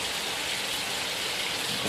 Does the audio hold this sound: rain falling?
yes